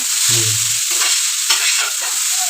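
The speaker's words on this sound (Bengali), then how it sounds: "এখন ওই চাউমিন করছি অল্প তেলেই করছি অল্প তেলে রান্না হচ্ছে" Chow mein is stir-fried in a small amount of oil, making a loud, even sizzle, with a brief low hum at the start and a couple of stirring surges.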